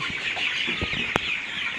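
Color butt chickens, 31 days old, cluck softly in a poultry pen, with scattered short calls and one sharper squawk over a constant background chatter from the flock.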